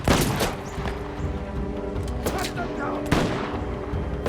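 Gunfire in the game Uncharted: The Lost Legacy, set in the Western Ghats: a few sharp, loud shots and bursts ring out over tense game music, with several louder reports spaced across the stretch.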